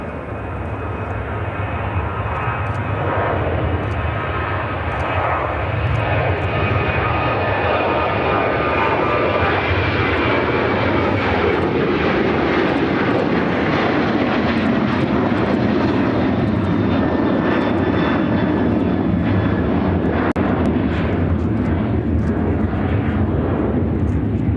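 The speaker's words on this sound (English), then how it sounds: "American Airlines 1551 taking off to Los Angeles on the 737-800 in the AirCal Retro livery." An American Airlines Boeing 737-800 in AirCal retro livery takes off at Chicago O'Hare, its jet engines a loud, sustained roar with whining tones that builds and holds at full power for the whole stretch.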